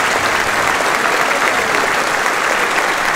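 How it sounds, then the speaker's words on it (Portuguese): Loud, dense applause from a sales seminar audience honoring the women present, many hands clapping continuously and close, with no voices over the steady roar. "os homens se levantem e deem uma salva de palmas para as mulheres agora, por favor, numa justa homenagem"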